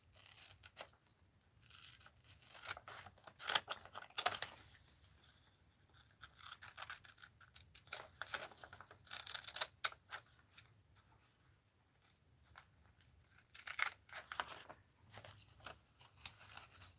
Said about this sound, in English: fussy cut here again.